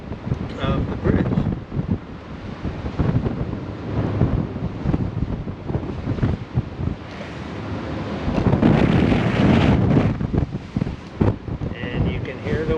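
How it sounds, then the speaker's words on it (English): Strong wind roars and buffets the microphone through a cannon port at Fort Point, steady and loud with gusts swelling throughout, faint water wash beneath. "And you can hear the wind ripping through."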